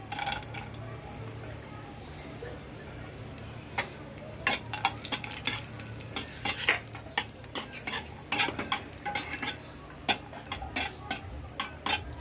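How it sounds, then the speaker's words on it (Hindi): Cashews frying in hot ghee while being stirred, a soft steady sizzle under repeated clicks and scrapes of a spoon against the pan, the scraping growing busier toward the end. "इसको हल्का गोल्डन होने तक फ्राई करेंगे।"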